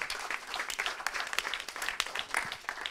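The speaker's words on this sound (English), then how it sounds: "Please give a big round of applause." Audience applause at a quiz event, a lively burst of many hands clapping with uneven swells and sharp individual claps.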